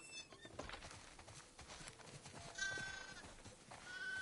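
Sheep in The Last of Us Part II bleat faintly in a game farm scene, mixed with soft shuffling, hoof-like clatter and low ambient game noise.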